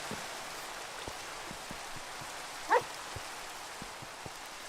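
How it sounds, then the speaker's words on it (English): Steady rain falls in Minecraft, a soft continuous hiss of drops with a brief louder patter partway through, heard alone with no talking. "I actually kind of hate the rain"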